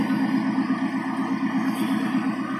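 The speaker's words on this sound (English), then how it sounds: "The car might be too loud, so just bear with me." A 2002 Ford Mustang GT with a two-valve V8 idles steadily up close, its low throbbing exhaust pulsing in an even loud rumble with no talk over it.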